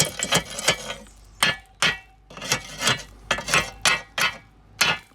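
Rusted screws on an old railway carriage are struck again and again with a metal tool, making bright, ringing clanks in quick bursts of taps, loud and close, with no voice over them.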